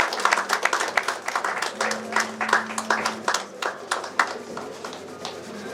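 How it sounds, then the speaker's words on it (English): Audience clapping for an award recipient at a Diaspora Africa Forum honors event: scattered, moderately loud hand claps with a few sharp ones close by, over a faint low hum. "Let's give her a big round of applause"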